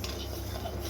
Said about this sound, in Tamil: இதையும் நம்ம ஸ்லோவில் வச்சு வறுத்துக்கலாங்க.